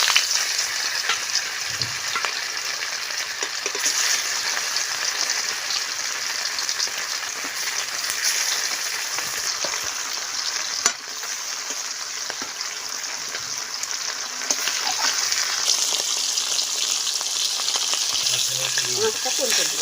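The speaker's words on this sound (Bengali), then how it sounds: "মাছটা ভেজে নেব, তার জন্য কড়াইতে দিয়ে দেব।" Turmeric-and-salt-rubbed fish frying in oil in a kadai wok, a continuous hissing sizzle with crackling spatters and a sharp tap midway, close and loud with no talk.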